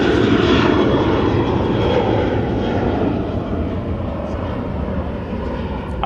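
Jet engine rumble from a Kuwait Airways Airbus A330-800, strong at first and then easing slightly as it carries on, a steady airliner roar with no talking.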